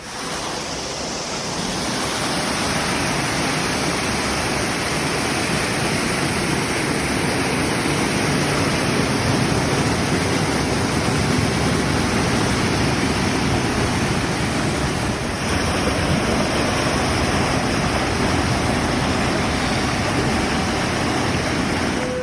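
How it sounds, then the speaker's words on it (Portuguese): Treated effluent pours steadily out at the final stage of a sewage treatment plant in Joinville, a loud, constant rushing of water like a broad outfall that continues unbroken throughout. "Vamos ver aqui a aguinha saindo limpinha."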